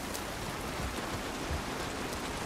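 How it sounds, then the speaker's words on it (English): Steady rain pouring down outdoors in the video game The Last of Us Part I, a dense even hiss with scattered heavier drops, constant throughout with no voices. "This rain ain't gonna do us any good."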